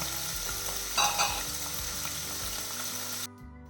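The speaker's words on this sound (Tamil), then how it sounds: "ஷேலோ ஃப்ரை செய்ய வச்சிடலாம் ரெண்டு சைடும் கொஞ்சம் காரமாக கிடைக்கணும்" Paneer shallow-frying in a pan with a little spicy masala coating, a steady close sizzle running over soft background music before cutting off abruptly near the end.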